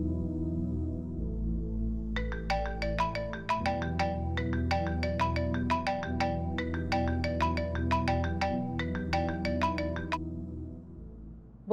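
A phone ringtone plays a bright, repeating melodic pattern of quick chiming notes over a sustained low musical bed, fairly quiet and looping steadily for several seconds without speech.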